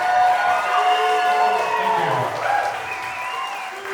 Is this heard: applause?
yes